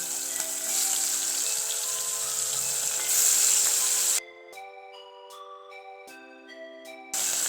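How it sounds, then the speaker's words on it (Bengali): Koi fish frying in hot oil for tel koi, a steady, loud sizzle that drops away for a few seconds before returning, with tonal background music throughout. "আস্তে আস্তে সরিয়ে সরিয়ে সুন্দরভাবে ভেজে নেব"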